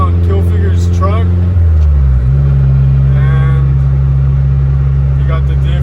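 A Nissan D21 pickup truck drives along after its rear differential was welded and its brake line refitted. The engine drones loud and close with a steady low hum that drops in pitch partway through as it shifts, and voices are faintly present.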